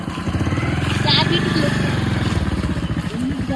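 A motorbike being ridden, its engine giving a steady, close, rumbling drone throughout, with voices talking over it.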